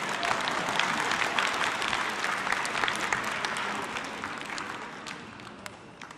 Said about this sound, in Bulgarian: Айде малко аплодисменти.